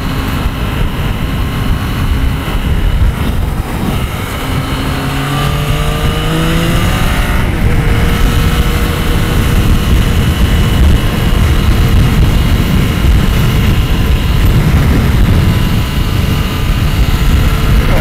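An old Triumph cafe racer motorcycle engine drones loudly and continuously while riding, with wind roar and rising and falling engine tones as it shifts through gears.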